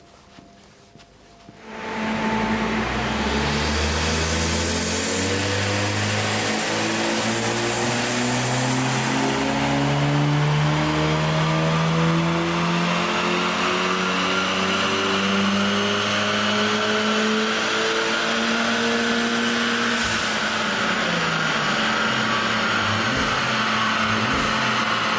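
A tuned VW Golf R Mk7 with a 6-speed manual, intake, stock intercooler and stock exhaust roars on a dyno, revving up through the gears with loud, rising engine tones before easing off near the end.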